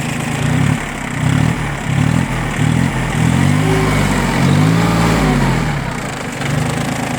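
A Yanmar F14D mini tractor's small diesel engine idles steadily, its low chugging hum close and continuous with a few slight pulses in rhythm, with no voices over it.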